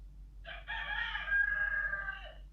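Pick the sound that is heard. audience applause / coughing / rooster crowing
rooster crowing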